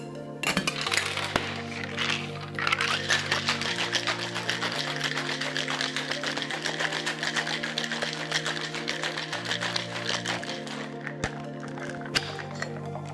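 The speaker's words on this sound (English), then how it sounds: "Now I'm just gonna shake it." A persimmon mojito with rum and mint is shaken in a cocktail shaker, giving a steady run of dense clinking and rattling for about twelve seconds over a sustained background tone, with no talking.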